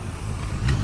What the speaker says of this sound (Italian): adesso sbucano le prime auto